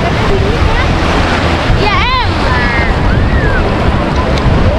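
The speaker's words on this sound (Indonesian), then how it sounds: "ombaknya ada yang silang begitu" Ocean waves at Pulau Merah beach roar in a constant, loud wash with wind noise on the microphone, while people talk briefly over the surf.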